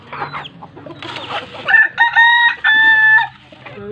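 A rooster crows loudly and close by, cutting through clucking and other farmyard chatter from nearby chickens.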